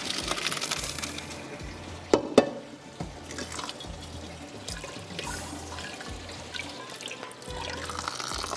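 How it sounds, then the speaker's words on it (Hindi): Water from a pot of boiled rice being poured off in a home kitchen, a steady watery splash and trickle running throughout with a couple of sharp knocks of the pot partway through; no talking. "तो मैं इसका पानी फेंक के आती हूँ"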